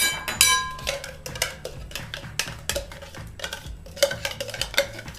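Kimchi sauce is scraped and spooned into a big mixing bowl, with repeated close clinks, taps and scraping of utensils against the bowl in an irregular rhythm.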